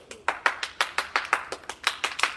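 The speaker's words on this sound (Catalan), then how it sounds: "ja ens han aplaudit ara" Audience applause, heard as a steady run of about a dozen distinct hand claps at an even brisk rhythm, close and moderately loud, with no talk over it.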